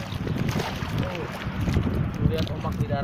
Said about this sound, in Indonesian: ini angin selatan